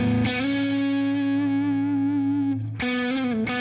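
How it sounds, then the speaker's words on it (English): A Friedman NoHo 24 electric guitar on its neck pickup plays through the BE side of a Friedman BE50 Deluxe amp with reverb. A loud, distorted chord sustains, briefly drops out, then is struck again. "Here's your neck pickup if you want to hear it."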